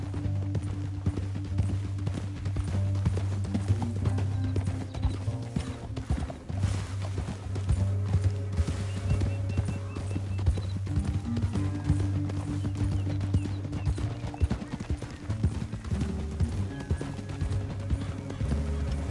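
Horses ridden in Red Dead Redemption 2, hooves clip-clopping steadily and continuously at close range over a sustained low musical score, with a brief whinny possible.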